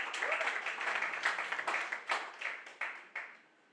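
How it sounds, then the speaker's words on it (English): An audience applauds a person named Sami at a relaunch event, a moderate burst of clapping that thins out into a few scattered, separate claps before fading away. "Big round of applause for Sami."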